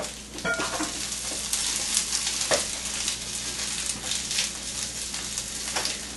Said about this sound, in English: I'm going to let this cook out a little bit, get these string beans all fired up.